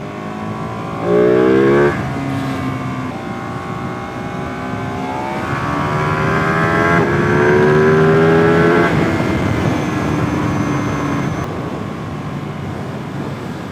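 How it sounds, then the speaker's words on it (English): Ducati motorcycle in race mode accelerating hard, the engine note climbing through several gear changes in a loud, sustained roar heard from the rider's position, with no talking. "I've got this in race mode, and I tell you what, flipping Jesus, this thing's quick"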